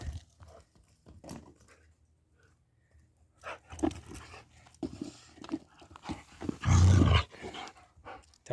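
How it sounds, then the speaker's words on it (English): A dog chews and worries a toy close by, giving bursts of panting, snuffling and rough throaty growls with brief pauses, louder toward the end. "Don't growl. Don't growl."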